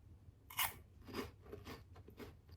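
Bites into a crunchy, crispy snack: a sharp close crunch followed by several softer crackling chews in quick succession, quiet with no talking.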